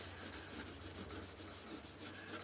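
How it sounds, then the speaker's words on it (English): Steady, soft rubbing of finish into the rosewood-style fingerboard of a counterfeit Les Paul-style guitar, a continuous close scrubbing with a gentle back-and-forth pulse, quiet and without talk. "So you rub it in."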